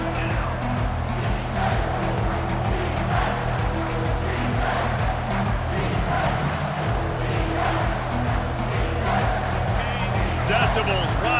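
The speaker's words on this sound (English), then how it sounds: "Decibels rising as the crowd gets behind this defense on third down" Stadium crowd in the EA Sports College Football 25 video game roars steadily and densely throughout, a continuous swell of cheering on a third-down defensive play with commentary voices running over it.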